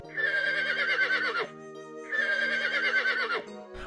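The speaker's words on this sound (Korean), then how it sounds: "어딘가에서 말 울음소리가 들려왔다." A horse neighs twice, two long, loud, close whinnies each lasting over a second with a short pause between, and no other sound around them.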